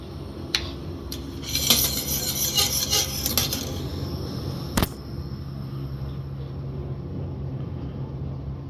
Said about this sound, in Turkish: böyle tabanından güzelce karıştırıp iyice açılmasını sağlayalım